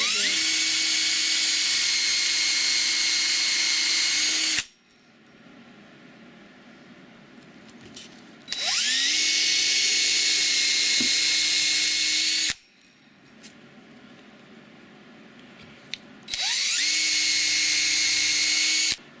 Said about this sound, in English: Flip the drill driver around again